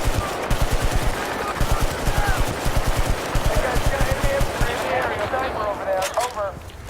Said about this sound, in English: Nice bit of suppression fire.